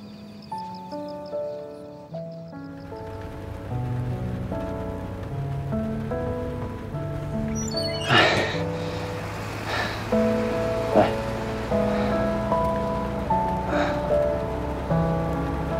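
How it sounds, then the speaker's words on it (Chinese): Heavy rain falls in a steady hiss under a continuous musical score in a drama scene, starting after a short quiet music-only opening and holding to the end. "下这么大雨"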